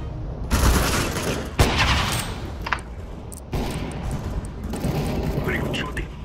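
Gunfire in Counter-Strike: Global Offensive, several bursts of shots and sharp cracks with brief pauses between, loud and close, with game mechanism sounds.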